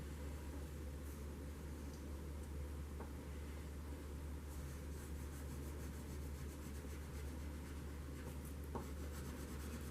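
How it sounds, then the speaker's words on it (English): Pencil or crayon scratching back and forth across paper while coloring a whole sheet for a Valentine's heart craft, a steady soft rubbing at close range over a low background hum. "And notice we are going to color the whole paper"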